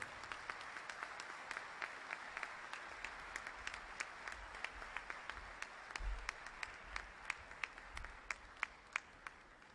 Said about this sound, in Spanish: Lo acompañamos con un aplauso.